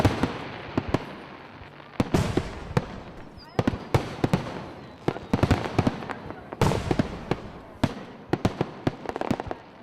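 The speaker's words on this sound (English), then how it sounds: "The whole night kind of comes to a culmination with the fireworks show." A fireworks display at a small-town summer festival night, with dense irregular cracks and booms bursting loudly over a steady crowd murmur across the whole stretch.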